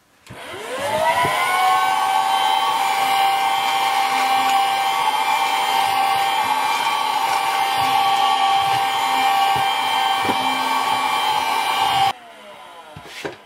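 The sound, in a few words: vacuum cleaner running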